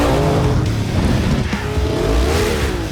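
Dune buggies race across desert terrain, engines roaring loudly and continuously with revving surges, close and unbroken for the full stretch.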